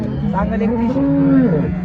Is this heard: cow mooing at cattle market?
yes